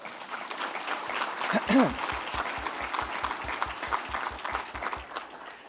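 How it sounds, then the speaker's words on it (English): Audience applause at a justice-themed charity breakfast, thanking the cooks and servers; a broad, sustained wash of clapping with a brief voice early on and steady low thumps running beneath. "give a grateful round of applause"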